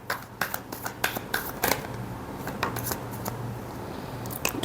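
A deck of tarot cards is shuffled in quick, soft, papery bursts, close and fairly quiet, with no talking.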